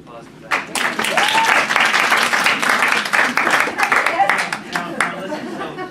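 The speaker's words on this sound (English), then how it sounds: "Give her a round of applause for that." Audience at a live show applauding a performer, sustained dense clapping that swells quickly and then tapers, with cheers, chatter and some speech mixed in.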